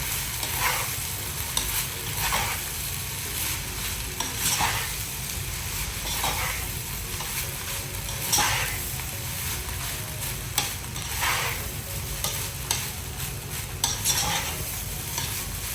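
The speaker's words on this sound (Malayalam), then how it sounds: "അതിട്ട് കൊടുത്തിട്ട് നമ്മളിതൊന്ന് നന്നായിട്ട് മിക്സ് ചെയ്തെടുക്കാം." Cooked rice being stirred into fried rice in a pan, with a spatula scraping and tossing in regular strokes over a constant background sizzle, close by and without speech.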